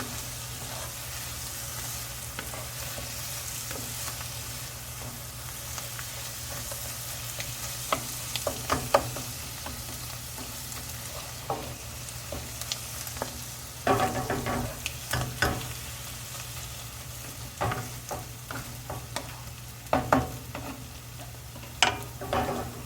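Baigan bharta, a mashed eggplant dish, fries in oil in a pan with a soft, continuous sizzle. Irregular scraping and clacking stir strokes come and go throughout, growing busier toward the end, with no talking.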